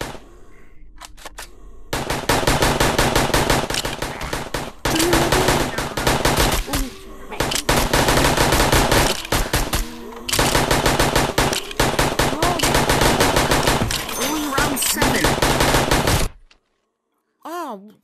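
Rapid automatic gunfire in a zombie survival round of VRChat, long dense bursts of loud close shots with short pauses between them, and a voice speaking briefly near the end.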